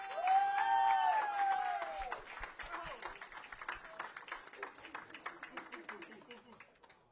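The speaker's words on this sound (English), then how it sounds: "let's give a round of applause to Moanalua High School." Audience applause and cheering for a high school team at an esports trophy ceremony, a steady wash of clapping from a crowd that follows an announcer's voice and slowly thins out.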